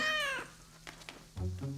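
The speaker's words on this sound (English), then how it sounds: "Caillou loved his new kitten very much." A cartoon kitten gives a clear, high-pitched meow, then after a short gap a second, lower and shorter meow, both close and loud.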